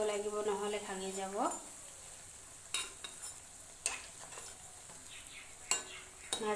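Homemade samosas (shingara) frying in hot oil, with a steady sizzle broken by several short scraping, clinking strokes as they are turned in the pan; a voice speaks briefly at the start.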